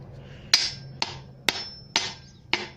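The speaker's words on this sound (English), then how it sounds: "I go along with just the end of my hammer, get it in there, tap it down" The end of a hammer taps a part into place during a 3-litre Ford Ranger engine rebuild, five sharp metallic taps about half a second apart, close and clear, with no talk.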